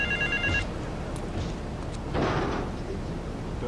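A telephone bell rings briefly at the start, a short trilling burst, then gives way to a low background hum with a couple of faint knocks and a soft whooshing noise.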